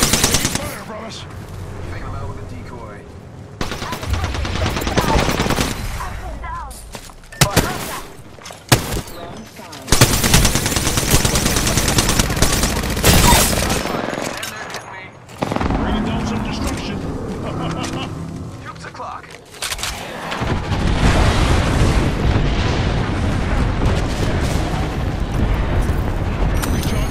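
Machine-gun fire and heavy booms from the battle-royale shooter Apex Legends come in loud, irregular bursts with pauses between, while character voices call out over the combat.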